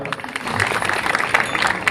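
An audience at a public event in Bhusawal claps for a doctor who played Malharrao Holkar, a brief burst of dense applause with a voice over it.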